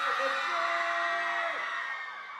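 Fans in a crowd at a Divergent black carpet film premiere letting out loud, sustained whoops and cheers, with a high shrill voice holding a note before the noise eases off.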